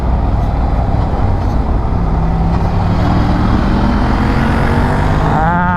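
A Ducati Scrambler 1100 motorcycle engine roars loudly and continuously while riding, a dense, steady exhaust drone mixed with wind rush, rising in pitch toward the end.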